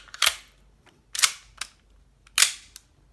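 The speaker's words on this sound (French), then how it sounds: "j'ai alimenté le chargeur en gaz pour que vous puissiez entendre le bruit de la réplique puis le bruit de la culasse quand elle fait" A gas blowback airsoft pistol, an Ops Tactical .45 replica, fires three times with the slide snapping back after each shot, giving sharp close pops each followed by a quick mechanical clack, spaced roughly a second apart.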